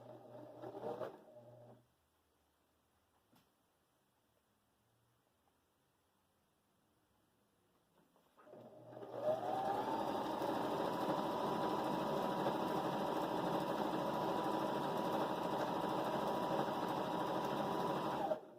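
A Husqvarna Viking Emerald 118 sewing machine starts after a near-silent pause and stitches with a steady, smooth, fairly quiet whirring hum for several seconds, close up, with a brief mechanical sound at the start and no talk.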